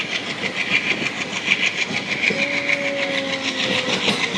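A night passenger train on the Siliguri to Alipurduar line in West Bengal runs steadily along the tracks with a continuous rumble and rattle, and a brief sustained horn tone sounds partway through.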